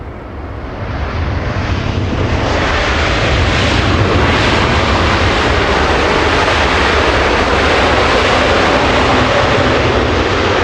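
A Boeing 787 Dreamliner landing at Los Angeles International Airport roars in a loud, steady jet-engine wash that swells within the first second and holds broad and sustained to the end, with wind buffeting the microphone and no talk.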